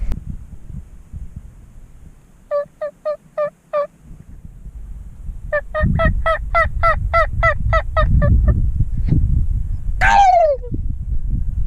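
A person imitates a turkey call: bursts of rapid, gobbling-like yelps sound out in two sets, followed by a drawn-out descending call, over outdoor rumble and wind.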